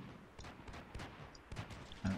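Sporadic distant gunfire from a Bradley fighting vehicle shooting up buildings in the wargame Combat Mission Shock Force 2, faint irregular cracks and thuds scattered over a couple of seconds.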